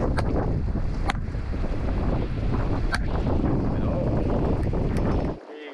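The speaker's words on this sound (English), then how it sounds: "So windy." Strong wind buffets the microphone aboard a boat at sea, a steady loud roar with occasional sharp gusts and knocks, cutting off abruptly near the end; faint voices are partly buried beneath it.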